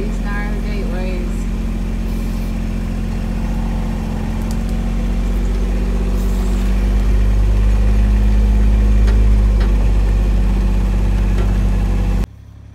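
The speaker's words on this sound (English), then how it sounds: "There we've got the old David Brown tractor with a cart on." An old David Brown tractor with a cart hitched on idles close by with a steady, deep, even rumble that swells slightly louder partway through before cutting off abruptly.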